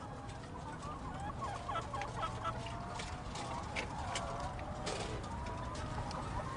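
Chickens on a farm cluck and call in a steady, moderately distant chorus, with scattered sharper squawks over a constant background hum.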